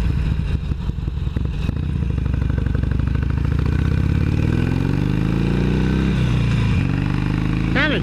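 A motorcycle engine rumbles up close, chugging and then climbing in pitch as the bike pulls away and accelerates, with someone talking over the engine noise.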